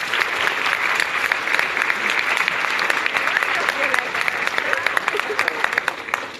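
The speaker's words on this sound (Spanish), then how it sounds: "Un aplauso a todos ustedes." Audience applause after a speech in Bolivia, a loud sustained crowd clapping with dense, even hand claps filling the whole stretch and a slight fade at the end.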